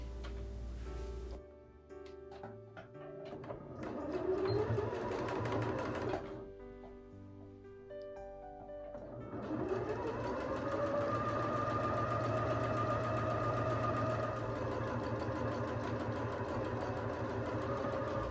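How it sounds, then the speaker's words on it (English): A sewing machine stitches a stack of quilt pieces together down the side, a soft mechanical whirring hum that runs in short bursts with pauses, then settles into one longer steady run, close and fairly quiet. "Now I will take this stack and sew all of these together down the side."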